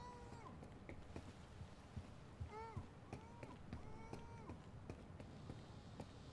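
Footsteps in Battlefield Hardline hardcore multiplayer on PS4: a run of quick, close steps under steady game ambience, with scattered short whistling tones and some voice-like sounds.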